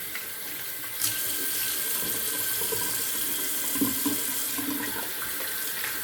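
Tap water running steadily into a sink while shaving soap is rinsed off, a continuous close hiss and splash with small shifts as hands move under the stream.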